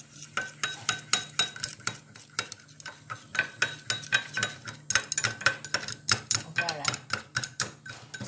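A spoon stirs six spices and a pinch of cinnamon into fish sauce in a bowl, making quick, rhythmic clinks and scrapes against the dish, close and fairly crisp.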